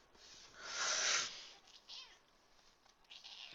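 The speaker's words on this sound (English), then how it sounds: "What, kitty? I'm gonna feed you." A house cat meows close to the mic, one long drawn-out cry followed by a couple of shorter, fainter mews in a quiet room.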